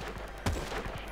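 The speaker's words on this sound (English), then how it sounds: "I'm gonna shoot you." A single sharp gunshot in the Battlefield video game cracks out midway through a steady game-noise backdrop, short and fairly close.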